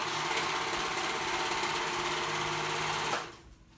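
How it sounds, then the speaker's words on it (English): A sewing machine runs steadily and close for about three seconds, stitching fabric ruffles with right sides together, then stops abruptly and leaves near silence. "Right sides together and serge or zigzag stitch"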